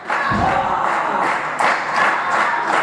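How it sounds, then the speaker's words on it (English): Pro wrestling arena crowd roaring and chanting in a loud, dense wall of noise with a few thuds and swelling shouts, close and continuous throughout. "And this crowd is split down the middle."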